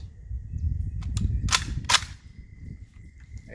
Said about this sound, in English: Okay, 20 rounds, AR-15.